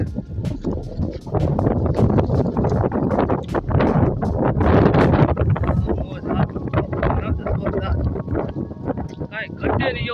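Strong gusty wind roars across an open rural spot in the Gir countryside, buffeting the microphone loudly and continuously, with someone talking over it throughout.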